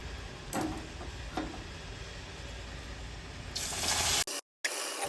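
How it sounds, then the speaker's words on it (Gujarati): Water is poured into roasted amaranth flour in a pan while making sheera, a brief splashing gush after faint background clatter, ending abruptly. "હવે આપણે એની અંદર પાણી ઉમેરી દઈશું"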